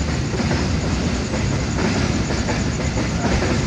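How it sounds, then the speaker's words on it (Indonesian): Train passing close by on an active railway line at night, a loud, steady roar of wheels and carriages filling the whole stretch, with no talking. "itu suara kereta"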